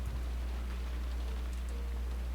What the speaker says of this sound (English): her head filled with the sound of the rain